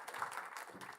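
Audience applause for panel guests at a careers networking event, a brief, fairly quiet steady patter of clapping.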